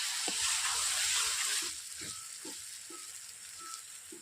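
Onion with garlic and ginger paste frying in a pan for a chicken dish: a loud, hissing sizzle at first that settles into a softer crackle, with a few light stirring clicks and no talking.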